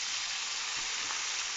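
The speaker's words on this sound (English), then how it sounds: "I'm just gonna leave the butter to melt. And then I'm gonna put my potatoes in." Red potatoes sauté in melted butter in a pan, making a loud, continuous hissing sizzle that stays close and even with no talking.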